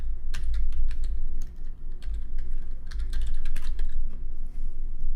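Rapid typing on a computer keyboard, close and fairly loud, with bursts of clattering keystrokes and brief pauses, no voices.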